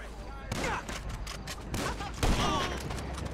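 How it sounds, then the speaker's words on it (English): Sniper rifle shots and bursts of gunfire in the game GTA 5, sharp reports starting abruptly and repeating in a dense, loud cluster with a heavier boom near the end. "that sniper shot did so much better"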